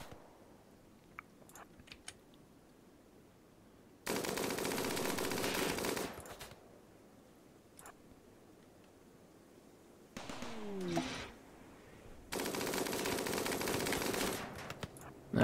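Gunfire from the colony video game RimWorld, heard as two sustained rapid bursts of automatic fire, each lasting a couple of seconds, with faint clicks and small effects between them and no talk.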